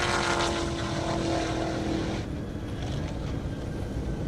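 A Cadillac CTS-V race car roars past at high speed down a half-mile airstrip, a loud engine note that drops in pitch and fades as it passes, leaving a broad distant rumble.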